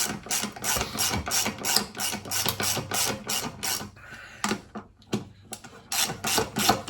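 A hand ratchet clicks in quick, rhythmic strokes while loosening the brake caliper bolts on a 2002 Harley-Davidson V-Rod motorcycle, close and clear, with a brief pause midway before the clicking resumes.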